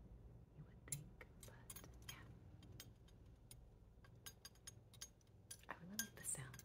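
A set of metal measuring spoons (teaspoon, half and quarter teaspoon) clinks in quick, bright, close metallic taps and rattles, scattered irregularly throughout at low volume.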